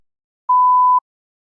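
A single steady electronic beep from a TOEFL speaking test prompt, a pure mid-pitched tone lasting about half a second, alone in silence.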